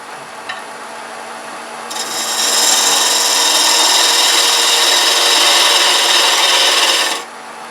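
A wooden box turns on a lathe while a tool cuts it down to diameter, a sustained loud scraping rasp starting after a quiet moment and stopping abruptly near the end, close up with no speech.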